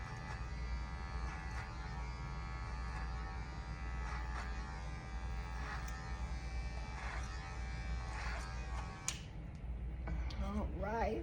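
Hair clippers with the lever opened buzz steadily while blending out a bald fade, running continuously close up, with a brief shift near the end as a voice speaks.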